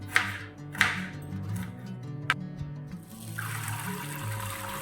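Dal lentils are washed in water for Odia dalma, with a few close bursts of sloshing and swirling water followed by a steadier rush of running water, and no speech.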